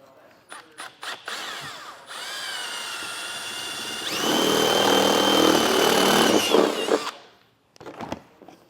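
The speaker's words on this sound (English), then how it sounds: "So I'll go ahead and get that drilled out." Power drill boring a hole for wires, preceded by some handling clicks, then a steady whine that loads up louder and rougher as it bites in, stopping abruptly, with a few knocks afterward.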